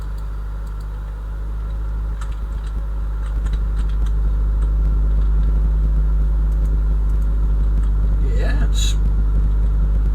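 A car engine idling with its exhaust left unbolted, a loud deep rumble that swells and stays steady up close, with a brief voice and light clatter over it.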